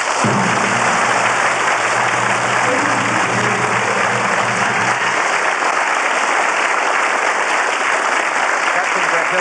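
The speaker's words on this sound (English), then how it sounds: "rise to your feet and applaud" A standing audience applauds loudly and continuously at a tribute event. The clapping forms a thick, even roar, and a low hum is audible briefly at the start.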